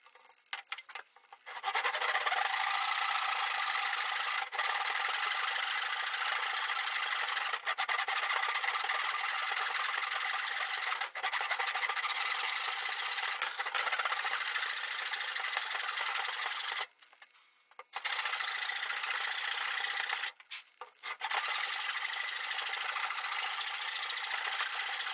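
A wooden rectangle is sawn diagonally into wedges for a workbench, a loud, continuous close-up power-saw whine broken by a few short pauses and dips.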